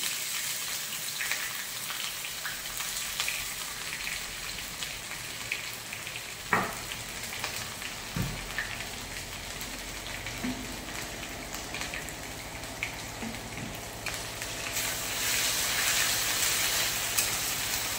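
Ginger, garlic and pepper paste sautéing in a pan after the onions have browned, a steady soft sizzle and crackle with a few sharp clinks of a spoon against the pan, rising slightly louder toward the end.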